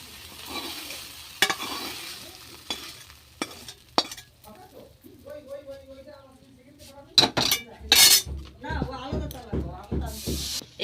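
Okra frying under a lid in a pan for a Bengali yogurt okra dish: steady soft sizzle and hiss, broken by clanks and stirring scrapes, with sharper crackles toward the end.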